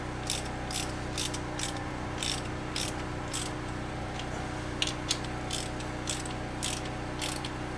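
A ratchet snugs Honda B18/B20 valve cover bolts with rubber gaskets, giving quick bursts of clicking pawl strokes in short repeated runs over a low steady background hum, close and fairly quiet.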